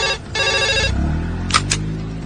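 A telephone rings loudly in a comedy sketch, a bright electronic trill repeating in two bursts, followed by lower tonal sounds and two short sharp clicks near the end.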